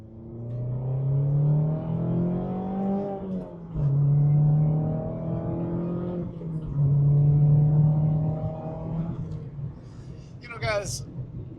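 A Mazda MX-5 Miata ND Club Sport pulls hard at full throttle through several gear shifts, the engine droning and rising in close repeated surges with brief dips between them, and a faint chirp near the end.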